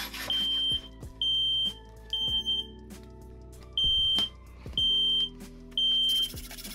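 A household smoke alarm triggered by sparks and smoke from hacksaw cutting during a DIY project beeps in a steady repeating pattern, six long piercing tones evenly spaced with workshop clatter and rumbling noise in between.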